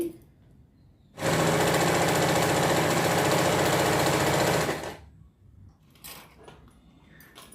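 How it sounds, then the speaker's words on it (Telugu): A sewing machine stitches a folded blouse piece in one continuous, loud, close burst of rapid needle rattle lasting a few seconds, with quieter handling noise before and after. "ఇలా మిషన్ కిందకి బోనిచ్చేసి ఈ దారం వెంబడి కుట్టుబడుతూ రావాలండి"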